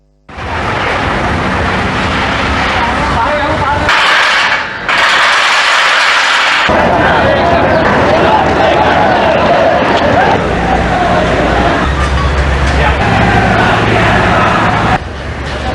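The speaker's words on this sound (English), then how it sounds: "police fired tear gas and water cannons to disperse the protesting university students who attempted to move towards the presidential secretariat" Police fire tear gas and water cannons to disperse protesting university students on a road leading to the presidential secretariat. A loud, continuous outdoor roar of crowd noise and mechanical rushing runs throughout, with a brief drop and a sharp burst partway through.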